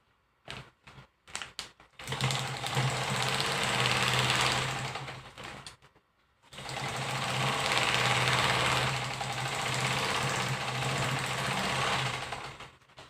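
A sewing machine stitching a bag runs in two long continuous bursts of rapid whirring and clatter, separated by a short pause, with some brief handling clicks at the start; close and fairly loud, no talk.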